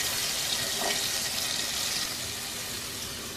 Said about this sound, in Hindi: हस्बे ज़रूरत पानी शामिल करेंगे।